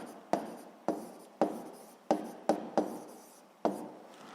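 Pen or pencil writing out answers for a seventh-grade physics exercise, heard as a series of short scratchy strokes with sharp onsets at irregular intervals, close and fairly quiet, with no talk.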